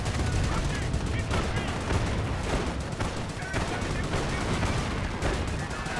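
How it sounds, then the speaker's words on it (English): Calliope rocket barrage raining down in Company of Heroes, a dense, continuous roar of overlapping blasts and crackling fire with steady loudness throughout, mixed with battle din and some voice underneath. "Calliope Rocket Barrage running in."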